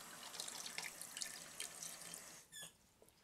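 Water running from a kitchen tap into small cans while making spaghetti sauce, a steady hiss with faint squeaks and a brief gurgling change near the end.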